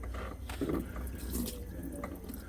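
Engine coolant pouring and splashing steadily as it drains out of a car during a water pump replacement, a continuous close liquid rush with no talk.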